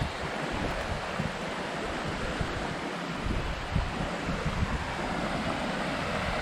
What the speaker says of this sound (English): little waterfall right here